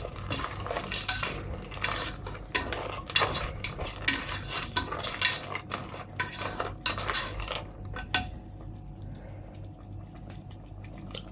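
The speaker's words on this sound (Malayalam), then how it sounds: "ഇളക്കി കൊടുക്കുക." Crab curry being stirred in a pan, with a spoon scraping and clinking against the metal in a steady run of close, fairly quiet knocks and scrapes, under a low background hum.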